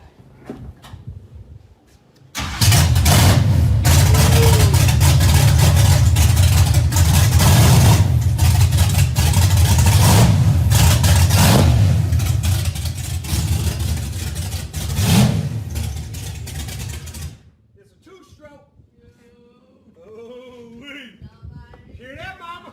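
Small-block drag car engine being repaired, fired up loud and close with a steady heavy roar and a few rises in pitch, cutting off abruptly; a voice speaks briefly after it stops.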